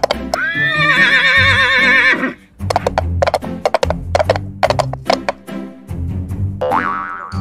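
A horse's whinny rings out at the start, followed by a bouncy, springy musical backing with plucked notes and a brief rising tone near the end.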